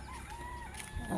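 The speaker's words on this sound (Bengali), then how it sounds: "মোরগটা এত ডাকাডাকি করতেছে" A rooster crows from a rooftop-adjacent yard, its drawn-out call carrying steadily over continuous background noise, with a few clucks near the end.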